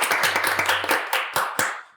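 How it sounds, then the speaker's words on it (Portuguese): Applause from a small audience at the opening of a talk show interview, a quick burst of clapping that thins into a few scattered claps and fades out. "Uma salva de palmas, todo mundo!"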